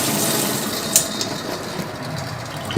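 Water runs steadily from the tap of a Leveluk SD501 Platinum water ionizer, a continuous hiss of flowing liquid with one small clack partway through.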